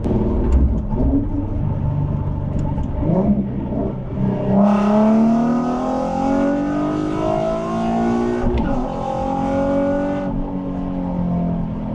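A Nissan 370Z fitted with a 2023+ Nissan Z exhaust roars as it accelerates, the engine note climbing steadily in pitch through several gears, loud and close.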